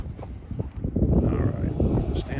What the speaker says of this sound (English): You can see it's still windy.